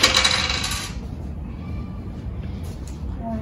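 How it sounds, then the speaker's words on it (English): Dice clatter and tumble across a board during a tabletop game, a bright rattling burst that stops abruptly and leaves a quieter room with faint residual noise. "Roll the dice."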